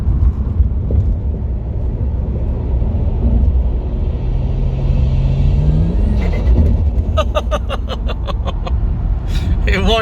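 A Ford BF XR6 Turbo straining on a dyno in fourth gear under boost, a loud continuous engine roar and rumble throughout, with a rising whine partway through and voices in the background.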